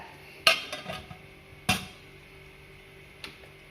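A lid set onto a cooking pot of tomato rice after the heat is switched off, giving two sharp metallic clanks followed by a lighter tap, close and clear with no talking.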